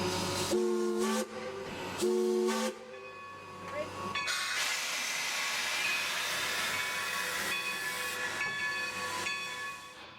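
In Robinson Canyon, Nevada, a steam locomotive gets underway, opening with a couple of loud whistle blasts and then giving way to a long, steady hiss of steam.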